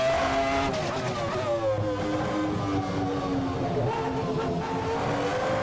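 Ferrari F310 Formula One engine in Assetto Corsa screams at full revs near 17,500 RPM, a sustained high, harmonic-rich whine that holds steady and loud throughout, with gear-change pitch sweeps.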